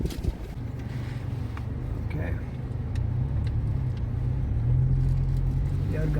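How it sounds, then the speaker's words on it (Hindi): A petrol Toyota Fortuner 2.7 SUV being driven, its low engine and road rumble steady and close inside the cabin, rising slightly toward the end, with faint light rattles above it. "तो अब हम गाड़ी की थोड़ी सी ड्राइव लेते हैं एंड लेट्स सी कि गाड़ी की ड्राइव कैसी है।"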